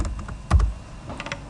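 Keys clack on a computer keyboard as a username and password are entered, a short run of close, crisp taps with one heavier thump midway, no talking.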